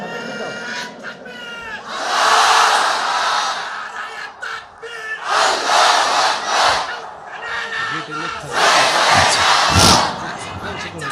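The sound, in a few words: crowd shouting takbir (Allahu Akbar) chant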